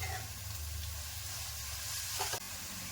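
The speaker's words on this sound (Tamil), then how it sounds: "மாங்காய் வந்து வேகணும். ஒரு 5 நிமிஷம் நல்லா வதக்கிட்டே இருக்கணும்." Raw mango pieces sauté in a hot pan with a steady, faint sizzle and hiss, close by, ending in a brief scrape of stirring, with no talking.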